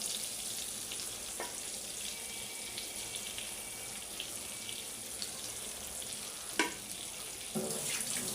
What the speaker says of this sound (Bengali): এই তেলের মধ্যে আমি বেগুনটা ভাজি করব আজকে